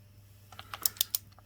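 A torque wrench set to 17.17 Nm on a nut during valve clearance work on a Honda BIGRED 300FW gives a few sharp close clicks in quick succession, with fainter ticks before them.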